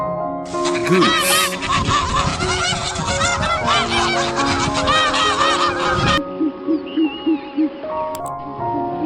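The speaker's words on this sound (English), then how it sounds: "Goose." Goose honking loudly from a farm animal set, a dense run of harsh repeated honks for about six seconds, then a quieter series of short evenly spaced honks near the end.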